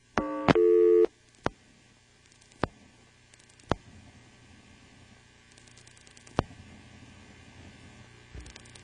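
A 1977 NX1-E telephone exchange in Vanceboro, North Carolina answers a call to the caller's own number: a short burst of steady tone, then a quiet line with hum and several sharp isolated clicks spaced seconds apart.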